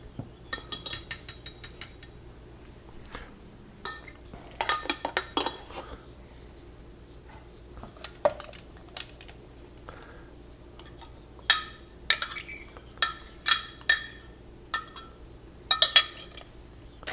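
Ice cubes clink and rattle into a glass of rehydrated freeze-dried Dutch Bros coffee, a series of sharp, bright knocks and chimes in small bursts, close and fairly loud against a quiet room.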